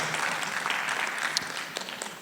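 Audience applause at a youth panel session, steady clapping from a crowd lasting a couple of seconds with a few sharper claps near the end, no talk over it.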